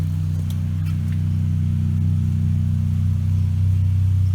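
Deep, steady exhaust drone from a 2019 Chrysler 300 AWD Sport with a performance exhaust, rumbling loudly and evenly as the engine is held and gently revved, with no talking.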